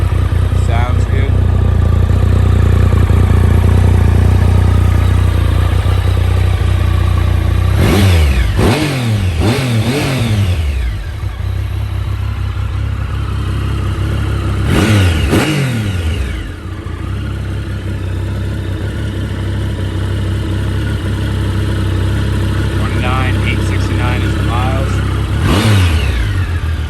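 A 2011 Triumph Sprint GT 1050 motorcycle idles steadily up close, then its engine is blipped in several sharp revs that rise and fall back to idle, with a few more throttle bursts later; no talking is heard over it.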